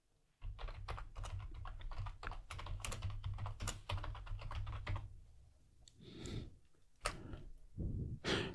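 Fingers type a terminal command on a computer keyboard in quick, close bursts of clicky keystrokes. A dense run of taps gives way to a few sparser, heavier key presses, with no one speaking.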